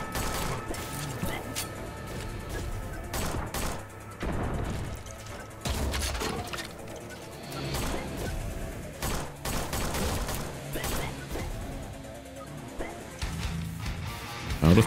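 Pistol gunfire in the Lovecraft-inspired boomer shooter Forgive Me Father 2, with repeated sharp shots and crashing impacts over a dense, busy game soundscape, continuing throughout.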